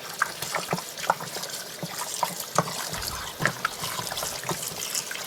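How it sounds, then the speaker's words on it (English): Cold tap water runs over baby back ribs in a sink, splashing and trickling with irregular bursts of spattering, close by and fairly quiet. "Next we're going to move to the sink and clean the ribs under cold water."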